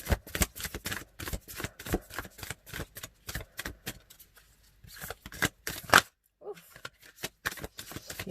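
Oracle cards from the Sacred Traveler deck by Denise Lynn are shuffled in quick riffling bursts, close and crisp, with short pauses and a brief gap before the shuffling resumes.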